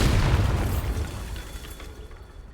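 A Bombarda spell explodes in a video game: one loud, close booming blast with a rumbling tail that fades away over about two seconds.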